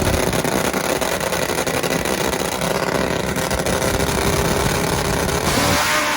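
Top Fuel nitro drag motorcycle at full power on a drag strip, a loud, harsh, continuous engine roar that holds steady for several seconds, then shifts in tone near the end.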